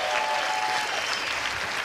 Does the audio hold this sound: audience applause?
yes